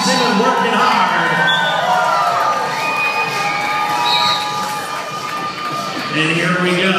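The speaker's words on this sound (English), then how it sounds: "Come on, yell out for both these two teams in and working hard." Roller derby crowd cheers and yells for two teams at a bout, a loud, dense wall of shouting and cheering voices that swells and dips slightly throughout.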